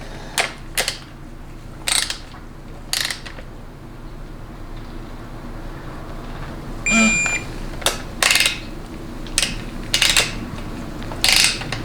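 A socket ratchet turning a 13 mm nut during final assembly of a GM 200-4R transmission: several short bursts of close, sharp clicking separated by pauses, over a faint background hum, with a brief electronic beep partway through.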